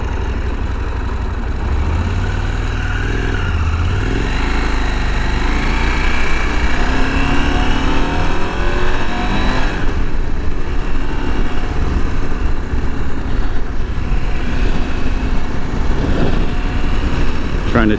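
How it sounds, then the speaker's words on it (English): Steady engine roar of a KTM 890 Adventure R motorcycle with traffic whooshing past close by, a continuous rumble that swells as cars go by, heavy wind buffeting throughout. "As soon as these cars go by."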